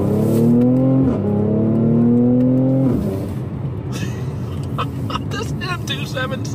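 Mercedes C43 with the M276 3.0-litre twin-turbo V6 revving hard in a pull from second gear, engine note climbing loudly then dropping at a shift, with road and wind noise after.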